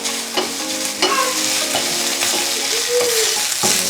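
Ground beef for spaghetti sauce sizzles and crackles in a hot pan close by, with scraping stirring strokes against the pan over the constant frying hiss.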